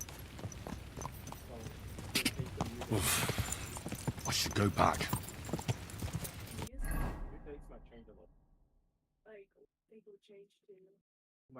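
Horse hooves pound rapidly in Kingdom Come: Deliverance gameplay, a fast galloping rhythm that runs for several seconds, then fades to near silence while someone speaks.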